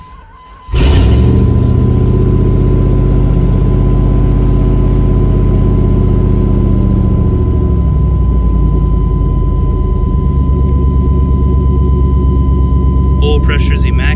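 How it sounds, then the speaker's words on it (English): A 1997 Chevrolet C3500 truck engine cranks briefly, catches and settles into a loud, steady, rumbling idle close by, running on continuously with a faint clink near the end. "Let's see if it'll crank again."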